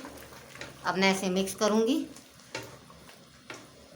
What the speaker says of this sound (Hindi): और साथ ही मैं इसमें ये डाल रही हूँ प्याज और टमाटर जो मैंने पीसे हुए थे। अब मैं इसे मिक्स करूँगी।